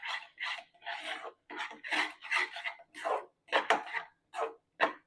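A spoon scrapes rhythmically through a dry sweetcorn chevdo mixture in a pan, about a dozen short rasping strokes in quick succession, close by and with no talking.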